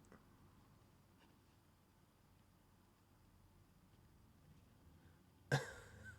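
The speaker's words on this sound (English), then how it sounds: "Coughs up blood." A character coughs up blood in the mecha video game Zone of the Enders HD on Xbox 360: one sudden wet burst of coughing near the end, following a long stretch of near silence.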